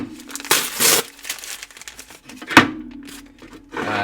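Crinkling plastic packaging and tape being pulled off a package holding an Isham-design knife, heard as loud, close bursts of crackle and tearing separated by brief quieter gaps.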